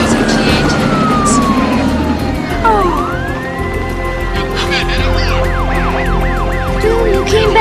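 Ambulance siren at an emergency scene, loud and close, sweeping up and down in wailing tones before shifting to a faster warbling yelp, heard over background noise.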